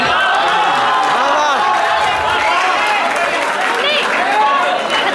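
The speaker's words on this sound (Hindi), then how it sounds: "आप लोगों ने तालियां बजाई हैं" Audience at a convention applauding after a Hindi poem recitation, a dense, steady clatter of many hands together with crowd chatter and someone speaking over it.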